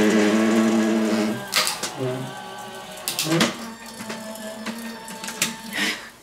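A Crafter's Companion Gemini die-cutting machine runs with an odd mechanical sound: a droning whir with tonal whine, then several loud rasping, grinding bursts as the rollers work.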